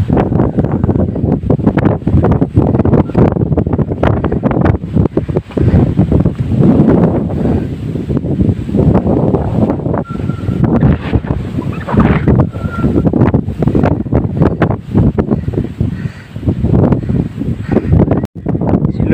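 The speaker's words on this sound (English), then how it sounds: "It's very windy out here." Strong wind buffets the microphone in continuous loud, roaring gusts on a mountain, Mt. Morashen in Nagaland, with a faint hint of water or waves underneath.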